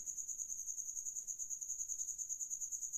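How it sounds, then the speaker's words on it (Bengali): Crickets chirp in a quiet village at night, a steady high pulsing trill repeating evenly and faintly, with nothing else around. "ঝিঝি পোকা ডাকছে।"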